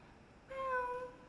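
A singer's voice imitates a cat with one drawn-out, tonal meow lasting under a second, fairly quiet and close against a hushed background.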